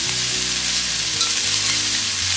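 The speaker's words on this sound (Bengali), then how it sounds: "আমি একসাথেই ভেজে নিচ্ছি, একটু শর্টকাটে করবার চেষ্টা আর কি।" Food sizzles loudly and steadily in hot oil in a wok (kadai), a close, continuous frying crackle with faint stirring and no voices.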